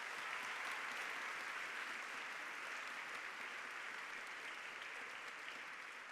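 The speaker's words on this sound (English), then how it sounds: "give yourselves a round of applause for getting here today" Steady, dense applause fills the hall for a large group of students at a STEM event's opening, sustained throughout with a slight fade at the end.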